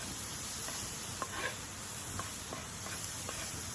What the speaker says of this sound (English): at this point I'm gonna add my onion, and I'm just gonna wait until it's soft